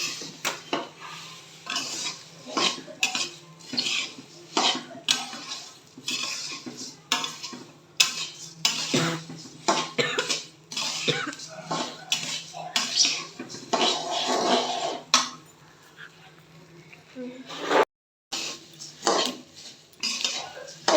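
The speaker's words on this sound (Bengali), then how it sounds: "এখন একটু ভাজা ভাজা করে নেওয়ার পালা" Puffed rice with salt is stirred and dry-roasted in a metal wok. A utensil scrapes and rattles against the pan in quick, close strokes with a brief pause near the end.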